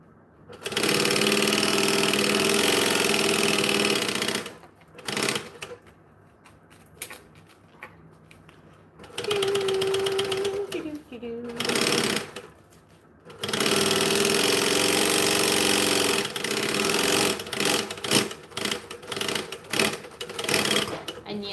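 A sewing machine runs at high speed in long, loud, steady bursts with a fast mechanical whir, stops and restarts several times with short gaps, and brief quieter stretches of stitching in between.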